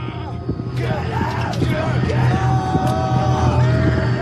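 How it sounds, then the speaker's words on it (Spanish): Soldiers' battle cry during bayonet training, a loud group of voices yelling and bellowing together over a dense, constant background roar. "el grito de guerra forma parte del entrenamiento con la bayoneta"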